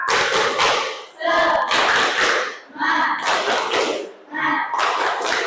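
Classroom group doing a rhythmic spirit clap in bursts of quick patterned hand claps, separated by short pauses, with voices chanting along.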